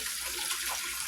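Water runs steadily from a kitchen tap onto chopped cabbage, a continuous bright hiss and splash close to the listener, heard alone with no voices.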